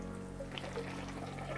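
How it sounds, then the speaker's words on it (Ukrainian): Boiled water poured from a cup onto funchoza glass noodles with chicken and vegetables in a pan, a steady close liquid stream with light splashing and no talk. "Додаємо фунчозу до курки з овочами та наливаємо 2 чашки кип'яченої води"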